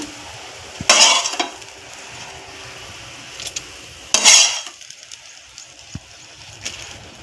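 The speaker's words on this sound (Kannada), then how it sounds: "ಈ ಮೆಣಸಿನ್ಕಾಯಿ ಕೂಡ ನಾನು ಮಿಕ್ಸಿ ಜಾರಿಗೆ ಹಾಕೋತಾ ಇದ್ದೀನಿ" Two sharp clattering bursts of roasted chillies being tipped into a mixer jar, separated by quieter clinks and handling noise.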